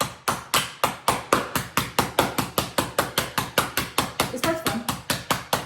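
A sealed bag of Oreo cookies smacked over and over to crush them, about twenty-five sharp, evenly paced thuds close up, with a brief spoken remark over the blows.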